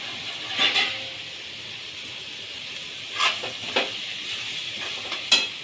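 Kurdai bhaji frying in oil in a pan is stirred, with a soft steady sizzle and a few brief scraping and clinking strokes of the spoon against the pan, close, with no talking.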